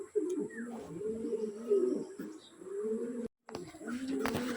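Racing pigeons coo steadily during a training session, a continuous low warbling chorus close by with a short break near the end.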